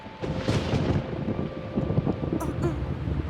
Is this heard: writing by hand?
no